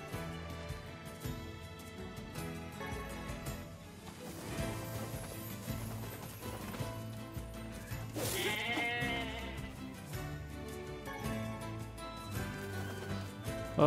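Goats bleat in the Nier Replicant video game, a few calls rising over a steady game music backdrop with dense tonal layers throughout.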